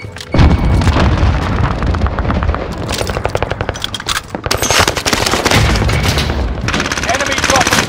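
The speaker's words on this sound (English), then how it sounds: "Throwing a frag!" A frag grenade detonates in the Call of Duty Warzone Pacific battle royale, a loud boom caught in dense automatic gunfire from PPS-43 and DP-27 weapons, while voices shout over the chaos.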